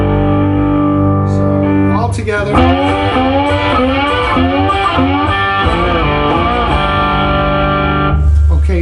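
Distorted electric guitar plays a song's slide riff, a loud run of gliding, sliding notes with echo and effects, the player briefly speaking at the start.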